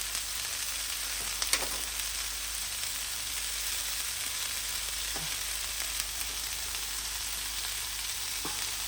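Pork for fajitas fries in a pan over a cabin stove, giving a steady, loud sizzle that holds throughout, with a few faint clicks and taps.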